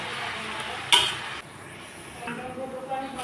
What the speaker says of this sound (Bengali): একটু নাড়াচাড়া করে কিছুক্ষণের জন্য ঢেকে দিব